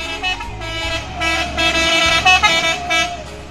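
A medium intercity bus in West Sumatra honks its horn repeatedly as it passes, the loud tones sounding over a steady engine rumble close by.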